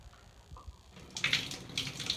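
Liquid splashes and pours over someone's open mouth, a soft gurgle giving way to louder bursts of splattering after about a second.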